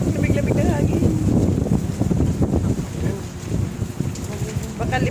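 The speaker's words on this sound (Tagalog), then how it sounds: "Lakas ng hangin." Strong wind buffets the microphone in heavy, rumbling gusts, with voices talking faintly underneath.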